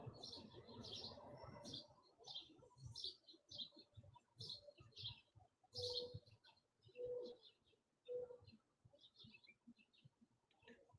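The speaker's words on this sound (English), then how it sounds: "The birds are chirping." Birds calling outside on a balcony, mixing bright chirps with repeated soft dove-like coos at a moderate distance. The calls come in scattered bursts over low background noise.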